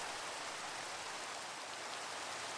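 Steady, even hiss of rainfall in the video game Minecraft, a soft constant wash of drops with no talking.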